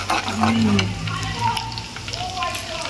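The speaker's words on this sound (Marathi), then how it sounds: "मम्मी इथे मोठ्या चमच्यानी मिक्स करते पाकळ्या लसणाच्या तेलाबरोबर." Garlic cloves are stirred in hot oil with a large spoon, giving a steady close sizzle with scraping movement while a voice is faintly present.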